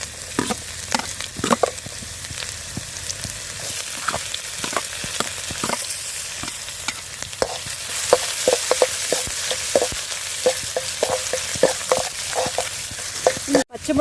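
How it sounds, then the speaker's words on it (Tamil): Chopped ginger and garlic sizzle steadily in hot oil for a pepper fry, with a constant crackling hiss broken by repeated sharp scrapes and clinks of a stirring spoon against the pan. "இப்போ இந்த இஞ்சி பூண்டை போட்டுக்கலாங்க."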